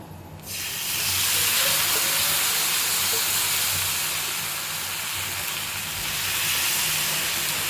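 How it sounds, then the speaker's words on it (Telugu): Ragi, Bombay rava and rice flour dosa batter spread on a hot pan, a sudden loud steamy hiss that starts abruptly and holds as a continuous close sizzle, easing slightly toward the end. "పెన్నం వేడెక్కాక మనము కలిపి పెట్టుకున్నాం కదా ఈ పిండిని దోశలాగా వేసుకోవాలి"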